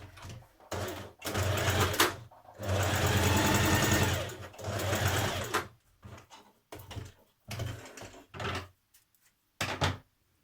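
A sewing machine running a straight stitch along a dress seam, in close bursts of steady rapid whirring, one long run in the middle, then shorter starts and stops.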